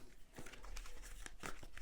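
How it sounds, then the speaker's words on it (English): Tarot cards are shuffled by hand close up, giving soft, quiet papery riffles and crinkles in short bursts. "So just going to shuffle the cards"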